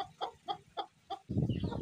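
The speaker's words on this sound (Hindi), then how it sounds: "प्यारी मुर्गी है मेरी, माशाल्लाह से ब्लैक असी मुश्की" A black Aseel hen clucks close by in five short, evenly spaced clucks, followed by a longer, throatier rustling cluck at the end.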